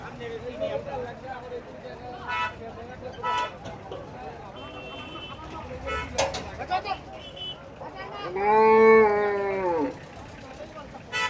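Cattle at the Gabtoli livestock market during the Qurbani Eid season, with one long drawn-out moo rising and falling near the end over a busy background of crowd chatter, traffic and scattered calls.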